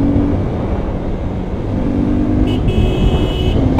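Cars move through heavy road traffic on an Independence Day drive, a steady engine drone and road noise close by with a brief horn toot near the end and no talk.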